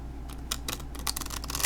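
A deck of Fantasma oracle cards being riffle shuffled, giving a quick burst of crisp flutters and papery snaps over about two seconds, close and fairly loud with no talking.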